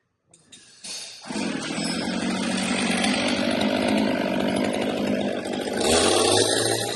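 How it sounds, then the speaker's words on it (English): A loud chainsaw revs up and cuts notches in a log home wall, its engine whining continuously close by, with a brief rise in pitch near the end. "They're cutting notches in the wall here. But those saws make a lot of noise."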